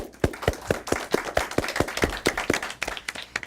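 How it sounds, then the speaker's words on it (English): An audience claps for elementary derby participants, a sharp, fairly close burst of hand claps in a quick, slightly uneven rhythm, with no talking over it. "I want a big round of applause for yourselves for a job well done."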